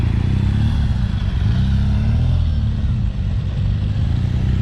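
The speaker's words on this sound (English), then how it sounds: "this is a BMW GS, extremely maneuverable motorcycle" A BMW GS motorcycle rides slowly through a cone exercise, its engine giving a steady, loud, low rumble that holds without break throughout.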